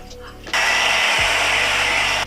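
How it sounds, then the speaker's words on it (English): A handheld hair dryer switches on with a click and blows a loud, steady whooshing roar while drying damp hair, following a brief quieter moment of room noise. "I'm gonna dry it for a little bit until it's damp"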